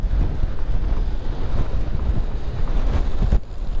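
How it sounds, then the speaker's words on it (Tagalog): Strong wind buffets the microphone outdoors in a cold upland area, a continuous loud roaring rumble with gusty fluctuations and no speech. "Lakas ng hangin mga ka-take care ha."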